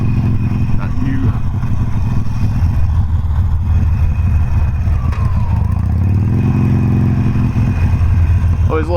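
Harley-Davidson Sportster Forty-Eight 1200 and other motorcycles on the road around Raleigh, a steady loud engine drone with a rising pass-by rev midway, mixed with wind rush and faint talk.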